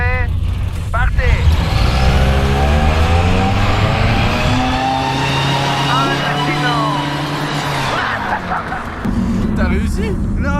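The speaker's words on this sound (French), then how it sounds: "Parce que la voiture a commencé à accélérer assez bien" A sports car accelerates hard in a race against a remote-control car, its engine rising steadily and loud, up close and continuous, with voices in the background.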